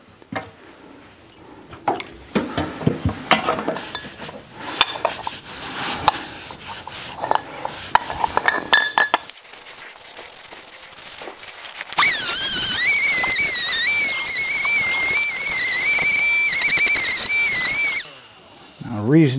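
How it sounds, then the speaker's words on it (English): Milwaukee Fuel brushless angle grinder cleaning up a metal milling machine part: first scraping and rubbing work, then the grinder spins up to a loud steady high whine for several seconds before winding down, with speech around it. "Love that little fuel brushless grinder."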